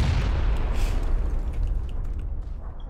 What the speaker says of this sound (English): they're trying to nade you out